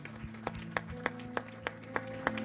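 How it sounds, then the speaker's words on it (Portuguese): Rhythmic unison clapping from a church congregation, sharp, evenly spaced claps about every third of a second over a sustained droning tone, moderately distant. "Você pode aplaudir o Senhor Jesus"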